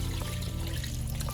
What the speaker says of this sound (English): you want to add some extra water to your pot and then pour it in the pressure cooker